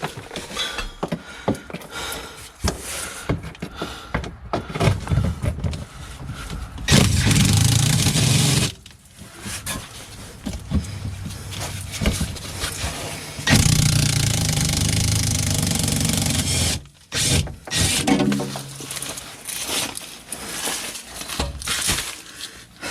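An impact wrench hammers out a stuck bolt on a 2006 T1N Sprinter van in two long, loud, buzzing bursts, framed by shorter rattling pulses and clanking of tools close by.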